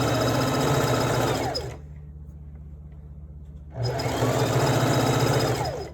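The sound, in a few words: sewing machine stitching a one piece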